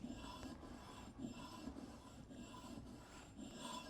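Linocut carving tool rubbed back and forth on a sharpening stone, a quiet gritty rasp in a steady repeating stroke rhythm, close and alone.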